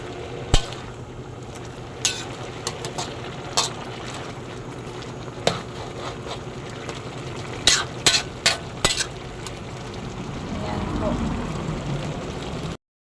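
Ginataang langka with shrimp boils in a pot as a spoon stirs it, giving scattered metallic clinks and scrapes over a low bubbling simmer that swells near the end.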